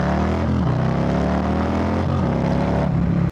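A 2022 Harley-Davidson Low Rider S V-twin engine revving close by, a loud, steady throaty drone whose pitch dips and climbs with the throttle before cutting off at the end.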